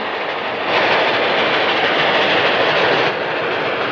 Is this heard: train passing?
yes